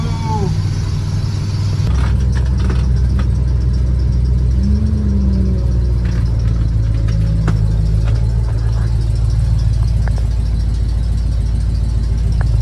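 A 1985 GMC Crew Cab C35 truck is on the road, its engine droning loudly and steadily from up close with continuous low rumble and road noise, and faint voices briefly underneath.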